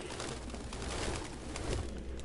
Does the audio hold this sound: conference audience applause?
no